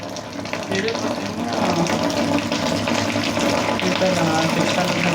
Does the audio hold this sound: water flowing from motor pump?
yes